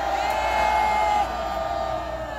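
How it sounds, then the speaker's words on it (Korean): A large crowd at an outdoor Korean Taegukgi flag rally roars with whoops and cheers, a dense, loud wall of voices that holds steady and then eases slightly, with applause likely blended in. "스스로에게 격려의 박수, 태극기를 한번 흔들어 보십시오"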